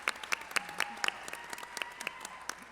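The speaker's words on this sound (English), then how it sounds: "Yes, this does need an applause." Scattered applause from a small audience at a breast cancer symposium session: a few sparse, uneven claps spread across the moment, fairly faint and with no steady swell.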